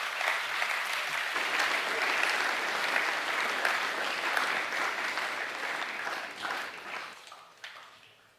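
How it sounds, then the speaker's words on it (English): An audience at a school co-curricular awards ceremony claps for the winners walking to the stage, a full, sustained wash of applause that thins out and trails off to a few last claps. "could we please give them a round of applause?"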